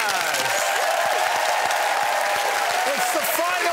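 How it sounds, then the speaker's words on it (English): Studio audience applauding and cheering for the winner of a Taskmaster episode, a dense, steady roar of clapping and whoops that fills the whole stretch without any talk on top. "let's all cheer again for tonight's winner, Lou"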